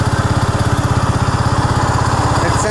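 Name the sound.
Honda Rancher ATV engine noise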